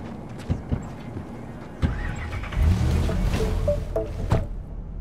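A car in Cyberpunk 2077 drives along a city street, its low engine rumble steady and moderately loud with a few thumps and brief electronic tones over it, no voices.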